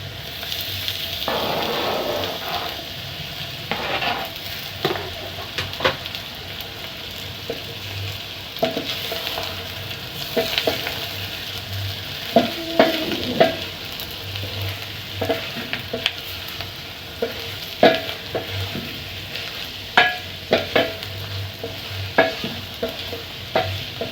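Chopped smokies sausages and potatoes sizzle steadily in a frying pan while a utensil stirs and scrapes through them, with regular clicks and scrapes over a continuous fry hiss and no talking.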